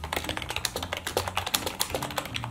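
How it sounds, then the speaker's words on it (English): Rapid, steady keystrokes clatter on a cheap $20 RGB keyboard with clear sides, close and fairly loud, with no talking over them. "Do a little typing sound test."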